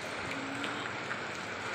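Steady broadband rain hiss over a continuous wash of water flowing strongly in a canal, dense and unbroken throughout, without voices.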